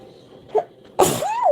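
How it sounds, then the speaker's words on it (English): A single loud sneeze bursts out suddenly, close to the microphone, after a brief sharp intake of breath. "I'm about to sneeze."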